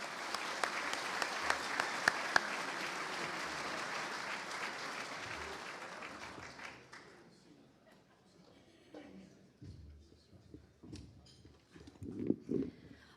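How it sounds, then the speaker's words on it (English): Warm audience applause at a basketball awards ceremony, a steady dense roar of clapping for about six seconds that fades away, followed by quiet room noise and faint murmuring. "please give him a warm round of applause"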